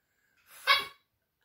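A puppy lets out a single short, sharp bark indoors, close and fairly loud, with brief breathy sniffing just before it and silence around it.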